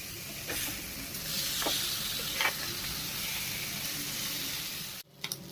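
Fish fries in a hot pan with a steady, close sizzle and hiss, broken by a few faint scraping stirs. The sizzle cuts off abruptly near the end with a soft knock.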